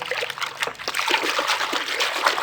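Water splashing and trickling as washing powder is stirred into a container of water for cleaning an old air cooler's grass pads, a continuous close, busy sloshing with no voices.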